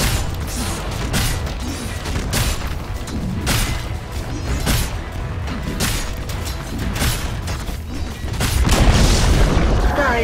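A tower being destroyed in the Dota 2 video game: heavy booms and crashing impacts repeat steadily, loud and close, with a bigger rumbling surge near the end.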